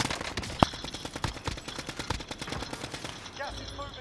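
Rapid video game gunfire in a duo battle match, a dense run of sharp shots that keeps going with a few louder bursts standing out, fairly quiet overall.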